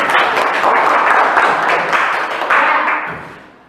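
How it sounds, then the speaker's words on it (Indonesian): Students in a classroom clap for a classmate after her answer, a short, close burst of applause that fades out near the end. "tepuk tangan untuk Lydia"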